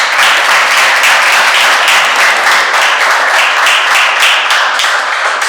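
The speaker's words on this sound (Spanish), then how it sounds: "Un aplauso para ellos." An audience applauds steadily at a conference-style event, dense clapping that stays loud and even throughout with no pause.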